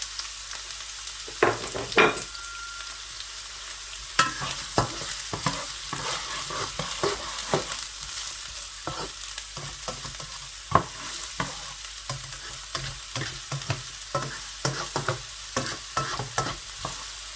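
Chopped onion frying in hot oil for macaroni and minced meat, a steady sizzle broken by frequent scraping stirs and clinks of the spoon, close up with no talking.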